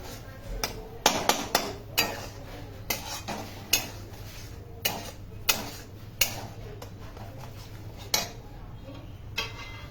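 A spoon scraping and clanking against a metal pot while mutton chop masala gravy is stirred, giving irregular sharp knocks over a steady low hum, close and fairly loud.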